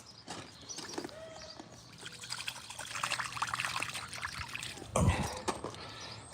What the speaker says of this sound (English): Let's go rinse my hand off in a mud puddle.